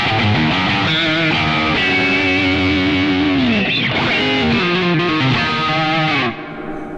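A Yamaha Pacifica 502V electric guitar runs through high-gain distortion, playing loud, saturated chords and bending lines for about seven seconds with no talking.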